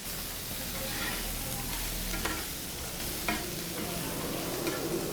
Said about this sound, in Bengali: এটা পাবদা মাছ ভাজবেন এবার